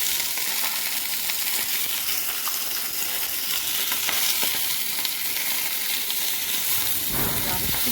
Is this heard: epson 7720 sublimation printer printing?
no